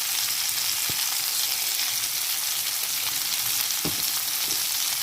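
Black pepper and dried pepper go into beef frying in a pan, which gives a steady close sizzle with a few soft taps and stirring knocks over it.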